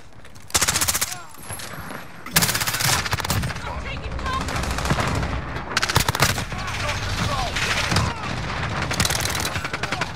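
Rapid Uzi submachine gun bursts in Modern Warfare, loud clattering strings of automatic fire broken by short pauses, with game voice callouts heard in between.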